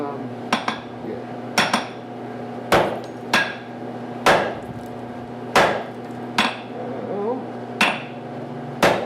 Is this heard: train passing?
no